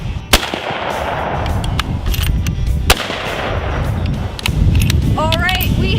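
Rifle shots at an outdoor shooting range, from a custom Savage Axis rifle fitted with a Nikon Prostaff 5 scope. Two sharp loud cracks ring out a few seconds apart over wind noise and background rumble, and people talk faintly.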